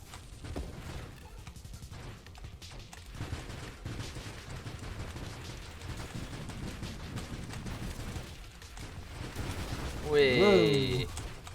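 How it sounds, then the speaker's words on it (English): Dense bursts of rapid gunfire from a ship in the Nova Drift space shooter, a steady fusillade that swells louder near the end amid game effects. "That's a lot of bullets."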